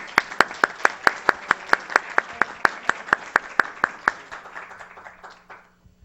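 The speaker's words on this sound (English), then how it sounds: "Another round of applause for our team." Applause at a county board of supervisors meeting comes as about twenty evenly spaced, distinct claps from a small group, fading out near the end.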